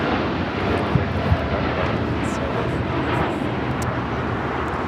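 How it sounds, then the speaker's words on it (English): A United Airlines Boeing 787-9 Dreamliner takes off from LAX, a sustained broadband jet engine roar heard at moderate distance, steady throughout with a couple of faint knocks and no clear speech. "This is United Airlines 198 taking off to Shanghai on the 787-9 Dreamliner"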